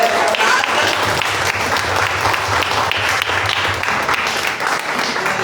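A church congregation gives sustained applause in praise of Jesus, dense steady clapping from many hands filling the room at close range with a faint murmur of voices underneath.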